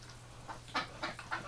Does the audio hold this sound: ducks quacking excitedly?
yes